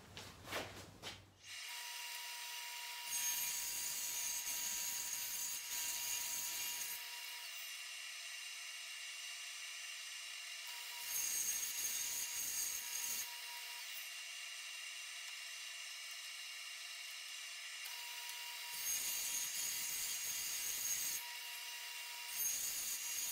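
Sawing through the wood of a freshly glued rail to trim it to size, with three long bursts of steady, rasping power-tool cutting separated by short pauses, close and loud with no talk.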